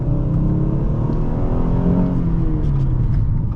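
A 2014 Ford Taurus Police Interceptor with the 3.7L engine accelerates at half throttle, its engine note a loud, steady drone rising in pitch throughout, heard close from inside the car with no talk.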